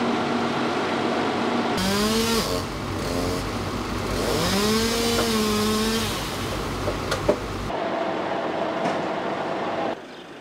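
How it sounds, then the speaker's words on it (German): Chainsaw cutting a branch in a village street, a loud steady engine drone with revving pitch swells for several seconds before cutting off, with a few knocks near the end. "So ist noch nie einer mit der Kettensäge durch den Ort gegangen."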